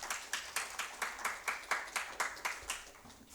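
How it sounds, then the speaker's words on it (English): Modest applause from an audience at a rural technology panel event in Delhi, with about a dozen evenly spaced claps in a steady rhythm, fairly faint and a little distant. "A big round of applause for the panelists."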